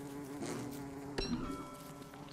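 A bee buzzes steadily and faintly in the video game Don't Starve Together, a thin continuous drone over soft ambient game sound, broken by one short click.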